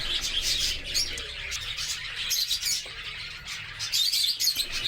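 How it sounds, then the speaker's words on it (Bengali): Cockatiel chicks in a wooden nest box chirp and peep continuously, a dense, high, close-up chatter rising and falling in quick bursts. "আমাদের পাখির বাচ্চাগুলো দেখতে দেখতে বড় হয়ে যাচ্ছে"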